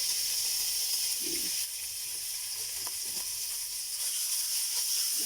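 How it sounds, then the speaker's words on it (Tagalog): Beef bulgogi sizzles steadily in hot oil in a pan, a continuous close hiss with a few faint pops and crackles throughout. "Lutuin ko muna yung beef bulgogi"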